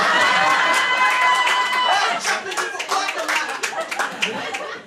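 Comedy club audience applauding and cheering during an improv show's applause-meter vote, a dense wash of clapping with shouts and whoops that thins into scattered claps by the end.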